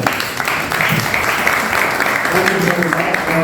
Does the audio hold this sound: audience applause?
yes